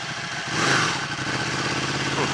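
A Ducati Panigale 1299 S motorcycle engine pulls away from the lights, a loud close rumble that swells in the first second and then holds a steady, slightly jumpy drone.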